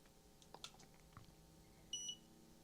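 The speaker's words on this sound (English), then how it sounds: "So what the beep does is it just beeps when you fire off the flash." A Godox V100 camera flash gives a single short electronic beep as it fires, clear but quiet against a faint background hum, with no one talking.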